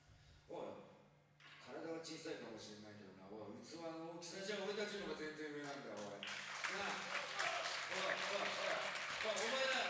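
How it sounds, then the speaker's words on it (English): Capacity crowd at a Dragongate wrestling show in Kobe's Sanbo Hall applauding, the clapping building under a commentator's talk and then filling the last few seconds as a dense, steady wash. "The capacity crowd here applauding that."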